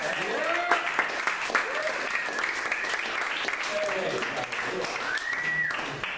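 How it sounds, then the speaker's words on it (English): A comedy-club crowd applauds for comedian Mike Lawrence, a steady wash of clapping with cheers and whoops rising over it, lively and sustained for several seconds. "Applause, guys, for Mike Lawrence."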